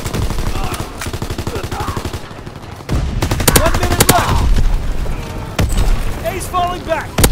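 Sustained automatic MP40 submachine-gun fire crackles in rapid, dense bursts in a WWII shooter, nearly continuous with brief pauses, loud and close, mixed with shouting voices and battlefield chatter.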